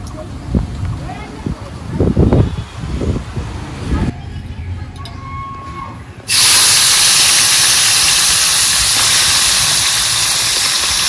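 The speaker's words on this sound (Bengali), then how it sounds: "ভেজে নেওয়ার জন্য কড়াইয়ে তেল দিয়ে দেব" Talking gives way to a sudden loud, sustained sizzling hiss as small puti fish coated in salt and turmeric hit hot oil in a kadai, continuing steadily to the end.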